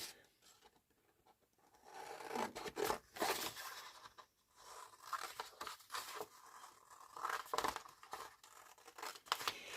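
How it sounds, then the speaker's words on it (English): Scissors cut a small paper tab for a handmade mushroom-themed folio, producing a close, quiet series of crisp snips and papery rustles that vary in loudness over several seconds. "I'm just going to cut out one of those little tabs"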